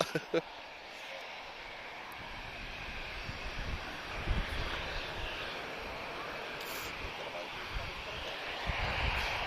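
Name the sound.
Portuguese Air Force aircraft using the runway at Lisbon Airport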